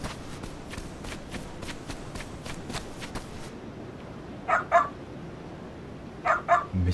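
A dog in the video game Yakuza Ishin gives two pairs of short, sharp barks, following a run of quick, rhythmic clicking sounds.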